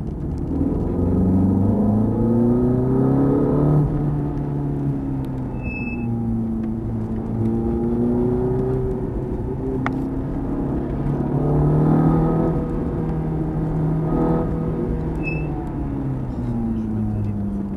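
A Ferrari F430 engine hums steadily at cruising speed with rising and falling pitch as it shifts, a continuous loud drone from inside the cabin with people talking over it throughout.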